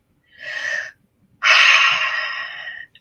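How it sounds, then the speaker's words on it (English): Two deep breaths during a guided meditation, a shorter inhale followed by a longer, louder breath, close and clear against silence. "we're going to take a couple of deep breaths"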